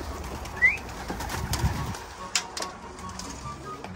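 Pigeons cooing at a loft, soft low coos and a brief chirp with some faint wing or movement noise in the background, fairly close.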